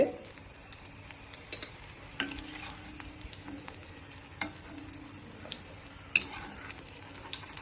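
Green chillies frying in a pan for chutney, a quiet steady sizzle broken by a few sharp stirring clinks of a utensil against the pan.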